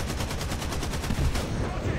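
Rapid anti-aircraft flak cannon fire from a vehicle in War Thunder, a dense, loud string of punchy shots pounding continuously through the whole burst with no pauses.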